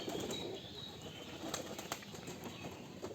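Giribaj pigeons at a pigeon farm flap their wings in quick, fluttering bursts over a steady background hum, fairly close and without any talk.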